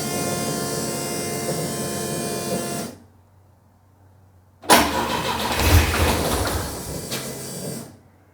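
A car engine on its first startup with the key: a steady whirring crank for about three seconds, a pause, then the engine catches with a loud burst and runs roughly before cutting out.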